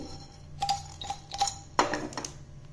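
Whole cumin seeds and salt, along with whole black peppercorns, are stirred in a pan while dry-roasting for a spice mix: a few faint, scattered metallic clinks and scrapes of a spoon against the pan over quiet background.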